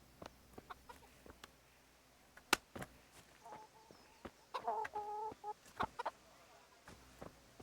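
Chickens cluck in a medieval village in the game Kingdom Come: Deliverance: faint scattered clucks and pecking clicks, then a short burst of louder, rapid clucking near the middle, with soft footsteps and ambience around it.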